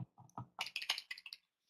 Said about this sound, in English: So difficult typing this.